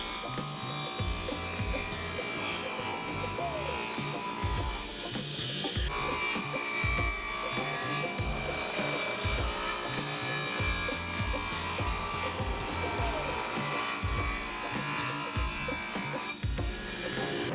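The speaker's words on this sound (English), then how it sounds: "back here at the table saw, we're going to cut all our pieces to 2 1/4 wide" Table saw ripping wooden pieces to width for a segmented pot, a steady whining motor with repeated rough cutting passes, loud and close, with no talking.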